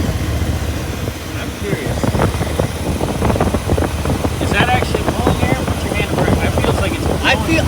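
A 1962 Ford Thunderbird engine idles with a low, steady rumble close by, while voices talk over it and wind buffets the microphone.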